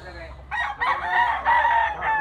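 A bullstag gamecock crows close and loud, a long rising and falling cock-a-doodle call with a few quick clucks before it, heard on its own without talk.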